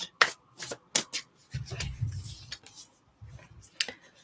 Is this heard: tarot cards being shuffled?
yes